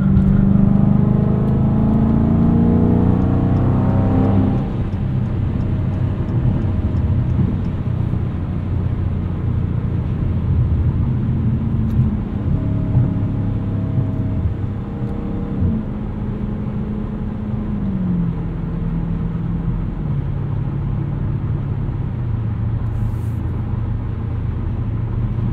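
A 2016 Dodge Challenger SRT 392 V8 muscle car cruising on the highway gives a steady, loud, low exhaust drone with constant road rumble from inside the cabin, no voices.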